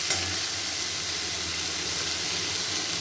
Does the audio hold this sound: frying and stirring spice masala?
yes